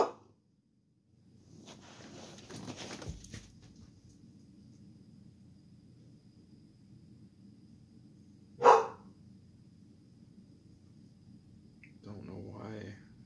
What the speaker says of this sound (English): Don't know why my dog's barking